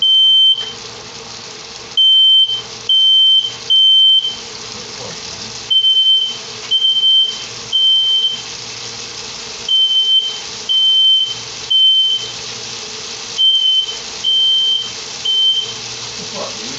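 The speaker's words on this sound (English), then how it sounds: "the fire alarm went off" A smoke alarm sounds loud, piercing beeps in repeated groups of three with short pauses between, over a low background hum.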